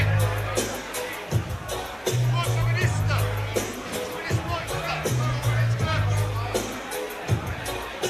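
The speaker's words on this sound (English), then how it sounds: "The crowd a little bit quiet." A subdued crowd murmurs at a live boxing fight in Dudley, Birmingham, a low steady hubbub under near continuous commentary talk, with a few faint calls rising from the audience.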